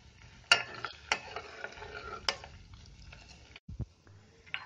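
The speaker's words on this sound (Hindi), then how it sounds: "इसे लो मीडियम फ्लेम पर पकाते रहना है, जब तक कि घी तैयार ना हो जाए।" Cream simmers into ghee over a low-medium gas flame, a soft steady sizzle with a few sharp stirring clicks and taps of a spoon against the pan, close and alone.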